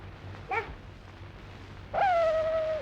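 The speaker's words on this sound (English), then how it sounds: "Oh, that's only a dog." A dog whimpers in an old 1933 comedy film, a brief yelp followed a moment later by a longer, drawn-out whine, fairly close and clear over a quiet hiss.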